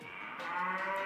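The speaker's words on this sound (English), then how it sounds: "Like a cow." A cow-like moo, steady and loud throughout, heard alone and amid a chaotic party game.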